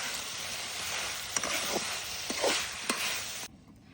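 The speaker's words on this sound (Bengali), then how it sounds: "এখন হচ্ছে টমেটো কুচি দিয়ে দিব" Chopped tomatoes go into a frying pan of fish curry with fried eggplant and potato, the loud steady sizzle broken by a few stirring scrapes before it cuts off abruptly near the end.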